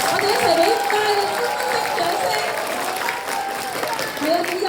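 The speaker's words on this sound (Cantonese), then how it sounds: "歡呼聲、掌聲。" A crowd claps and cheers at a kindergarten's end-of-term ceremony, with sustained dense applause and scattered shouts filling the room, slightly swelling and easing over a few seconds.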